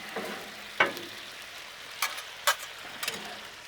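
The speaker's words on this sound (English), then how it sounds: "Let's throw it back up on the griddle. Now, all I'm trying to do is heat this up." Leftover shrimp rice reheating on a Blackstone flat-top griddle gives a quiet, steady sizzle, broken by a few sharp scrapes and taps of a spatula against the steel surface.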